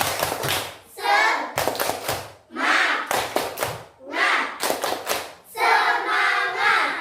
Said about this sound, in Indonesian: Sekarang kita tepuk semangat dulu sekali.